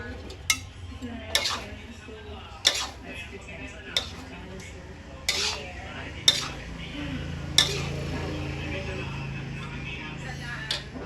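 Bok choy and cabbage are stirred in a pan, with a series of sharp metallic utensil clanks at irregular intervals over a low sizzle and faint background voices.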